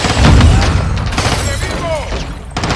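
A grenade explosion in the video game Call of Duty Modern Warfare II: a loud, booming blast at the start, with crackling debris, a rumbling tail and brief whistles of gunfire and shouting behind it.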